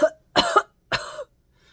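A voice imitating three short, forceful coughs, spaced apart, close and loud with silence between them.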